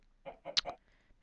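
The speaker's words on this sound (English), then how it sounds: "Hey, I see a chicken." Chicken clucking in the Minecraft video game, a few short, quiet clucks in quick succession, heard alone at low level with no talk over them.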